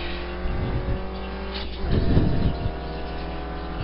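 Race car in the ISRA Sport Touring Challenge at Infineon, accelerating hard in third gear: a steady, loud engine drone inside the car that swells into a rougher, stronger roar partway through before settling again.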